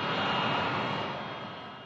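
A Boeing 787 Dreamliner jet taxis in, its engines producing a loud, steady broadband roar that eases slightly toward the end.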